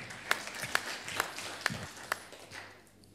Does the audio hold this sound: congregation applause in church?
yes